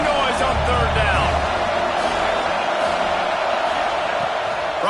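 A loud football stadium crowd roars steadily on third down, a dense continuous wall of noise with whoops, under a commentator's voice.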